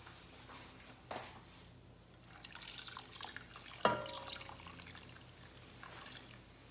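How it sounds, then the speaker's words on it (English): A small splash of water poured into a pot, with a brief clink and trickling drips under quiet background noise. "I need a little bit more water, so I'm gonna add just a little bit,"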